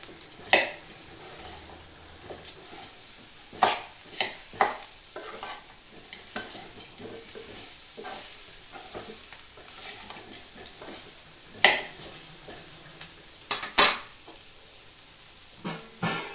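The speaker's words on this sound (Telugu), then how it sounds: "కొంచెం వేడెక్కాక మునక్కాయ బాగా కలిపేసుకోవాలి" Drumsticks frying in a pan are stirred with a utensil, giving a soft continuous sizzle. Scattered scrapes and clinks against the pan break through, quiet and alone, with no talking.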